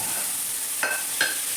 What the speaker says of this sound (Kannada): ಅದೇ ಬೆಂಡೆಕಾಯಿನ ಹಾಕ್ತಾಯಿದ್ದೀನಿ.